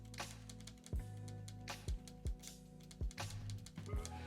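Smooth, muted keystrokes on a Cougar Puri Mini keyboard with lubricated mechanical switches land one at a time at an unhurried pace, each press giving a soft, deep thock in quiet surroundings.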